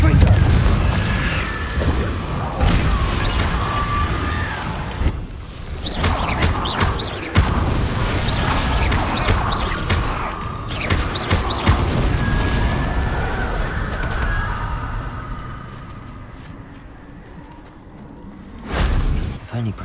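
A Confringo fire-blast spell cast in Hogwarts Legacy sets off booming explosive bursts over ongoing game sound, with a heavier crash early and another burst near the end.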